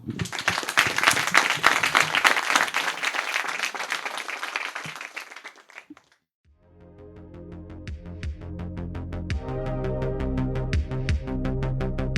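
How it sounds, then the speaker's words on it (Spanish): Dense, loud applause fills a startup event session for about six seconds, then cuts off to a short silence before steady music fades in and carries on. "Aplauso."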